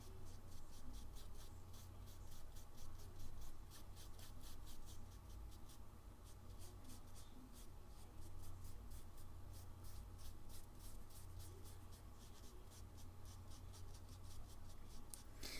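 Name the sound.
paintbrush painting watercolor on toned paper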